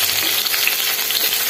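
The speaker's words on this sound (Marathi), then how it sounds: "हिरवी मिरची छान फ्राय झाली। आता आपण त्यात घालणार आहोत टोमॅटो।" Tomatoes go into green chillies frying in a pan, giving a steady, close, dense sizzle and crackle that holds evenly throughout with no voices.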